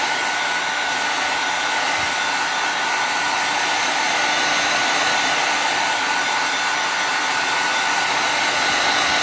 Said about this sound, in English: usually you can dry it, hair dryer, hot tool